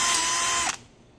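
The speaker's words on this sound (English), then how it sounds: "I'm using a 9/32 drill bit that goes right there." A power drill fitted with a 9/32 bit bores into a scrap piece of wood, a loud steady whine close up that stops abruptly near the end, leaving faint room noise.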